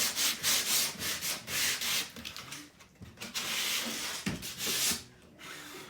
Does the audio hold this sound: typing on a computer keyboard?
no